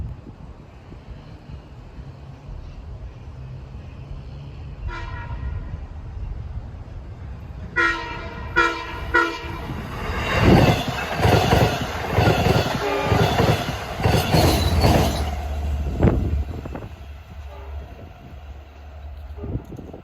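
A Long Island Rail Road train, number 2709 running from Montauk to Jamaica, approaches and sounds its horn in several blasts, then passes close with loud rumbling, clattering wheels and squeal before fading into distant hum.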